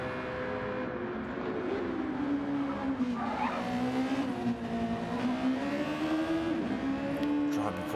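A Super Formula race car in a sim racing game, on a hot lap at Suzuka Circuit: a loud, continuous high engine whine rising and falling through gear changes, with a commentator talking over it.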